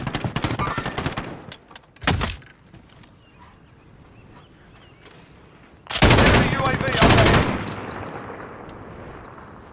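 Automatic gunfire in Call of Duty: Modern Warfare, with rapid loud bursts at the start, around two seconds and near six to seven seconds, separated by quieter in-game ambience.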